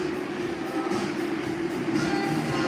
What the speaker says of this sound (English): got an old school train, first one of the day